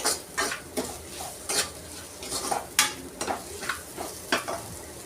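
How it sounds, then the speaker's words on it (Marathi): Spices sauté in hot oil for a green moong dal tempering. A spoon scrapes and stirs against the pan in repeated strokes over a soft, continuous sizzle. "ह्याला छान असं 1 मिनिटभर आपल्याला परतून घ्यायचं आहे मसाल्यांना."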